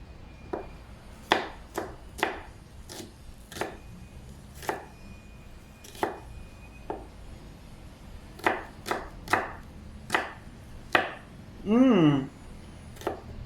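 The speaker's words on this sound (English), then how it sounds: "since they're small, I would just cut them into two" Knife chopping small onions on a board while making milkfish tamarind soup, with about a dozen crisp, evenly spaced cuts up close and a brief squeaky rustle near the end.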